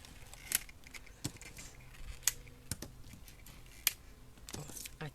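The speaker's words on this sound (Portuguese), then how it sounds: "aqui eu vou cortar até chegar onde a raiz vai estar branquinha" Snips cut the leaves and aerial roots of a succulent plant, producing sparse, sharp close clicks spaced irregularly over a quiet room.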